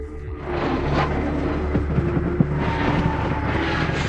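An airliner's belly scrapes along the asphalt runway during an emergency landing, a loud, continuous rumbling roar with clattering bursts that holds steady for several seconds, heard from inside the cabin near the back.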